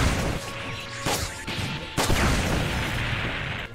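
Loud booming video game explosions and crashes in quick succession, dense and harsh, with heavy rumbling noise throughout.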